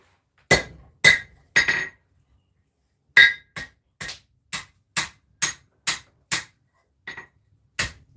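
Sharp metallic hammer strikes ring out while forging a steel sword, three quick blows, a pause, then a steady series of evenly spaced hits, loud and close.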